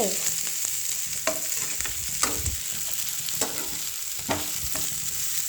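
Bitter gourd pieces fry in hot oil with a steady close sizzle, while a utensil stirs and scrapes through the pan in repeated soft strokes.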